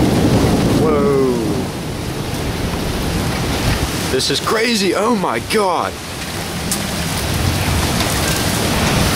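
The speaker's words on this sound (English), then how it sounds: "Lightning everywhere, super heavy rain." Heavy rain pours steadily through a severe thunderstorm with high winds and lightning in Pittsburgh, with thunder rumbling under it. A person speaks excitedly over the loud, continuous downpour.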